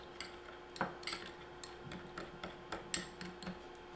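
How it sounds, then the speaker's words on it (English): A spoon or utensil taps and clinks against a bowl while sugar and cinnamon are stirred together, with light irregular ticks and scrapes that are faint and close. "Just make a simple cinnamon and sugar mix."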